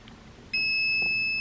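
A multimeter running a continuity test on an LG Kenmore washing machine noise filter connector gives a sudden steady high-pitched beep that starts partway through and holds to the end, close and clear.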